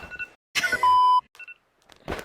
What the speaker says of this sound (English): Sorry, that's my alarm for Pilates.